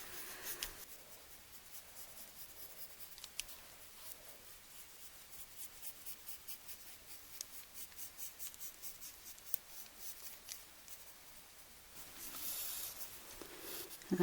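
Pencil sketching on paper, a steady close scratching and rubbing of graphite strokes repeating in quick short bursts, fairly quiet and alone.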